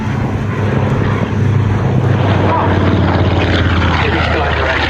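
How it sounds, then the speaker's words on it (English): A WWII Avenger warplane makes a low strafing pass at an outdoor airshow, its heavy propeller engine roaring loud and steady throughout, a broad continuous drone with no pauses. "And the Avenger's coming in for another strafing attack."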